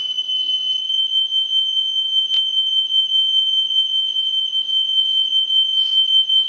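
A smoke alarm sounds a steady, piercing high-pitched tone throughout, loud and continuous, with a brief click partway through.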